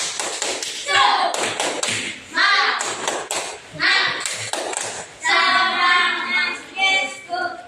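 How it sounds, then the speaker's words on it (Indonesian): Schoolchildren perform a classroom spirit clap, sharp rhythmic hand claps in quick patterned bursts mixed with loud group chanting, repeated in several close, energetic rounds. "Tepuk semangat."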